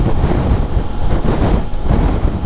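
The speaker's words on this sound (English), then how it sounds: "It's quite windy, although the wind is sort of coming from over my left shoulder" Strong wind buffets the microphone in loud, continuous low rumbling gusts from behind a rider on a CFMOTO 800MT motorcycle, with no voices heard.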